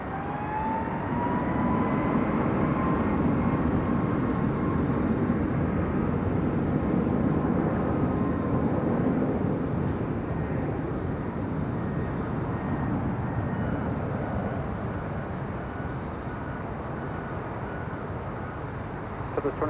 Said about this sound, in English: Next arrival on 24 right is the Korean Air flight 17 coming in from Seoul, the 747-8 Intercontinental.